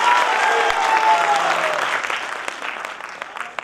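A crowd at a Gita Jayanti gathering in India claps in loud applause that holds strong, then thins out into scattered individual claps.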